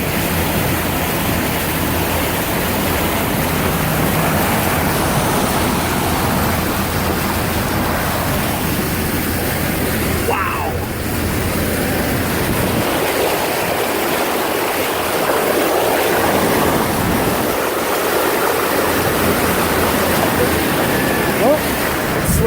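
An RV pushing through deep Texas floodwater in 2017 gives a steady, loud wash of churning water and spray, constant throughout, with brief quieter dips near the end and faint voices underneath.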